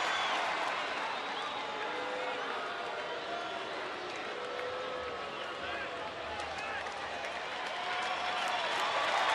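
Baseball stadium crowd at an Angels at Rangers game, a dense, steady roar of cheering and chatter filling the space, with no lulls.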